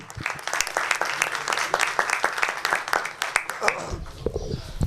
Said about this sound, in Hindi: तो सब अब एक दूसरे के लिए ताली बजाएंगे,